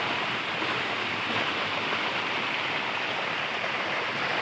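Water flows steadily inside a cave, a broad, even rushing wash that stays constant and fairly loud throughout, with no voices.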